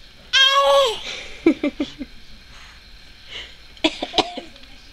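A young boy gives a few short forced coughs on request in a cold room, spaced out in small bursts, with a voice and a brief laughing babble near the start.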